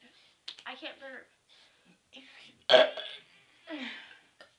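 Several burps from young girls, short guttural bursts scattered across the moment, one loud and close, others softer, with brief voices and laughter between them.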